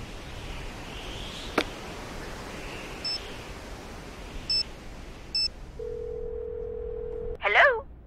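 Telephone dialing in a Nancy Drew video game: a few short tone beeps spaced apart over quiet hiss, then a steady held dial tone followed by a brief chirping ring burst.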